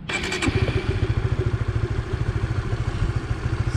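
A Honda RS150R motorcycle engine fires up after a brief cranking clatter, then settles into a close, loud, rapid, even idle thump with no talking.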